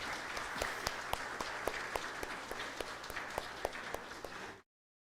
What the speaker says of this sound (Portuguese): Uma salva de palmas para os nossos pequenos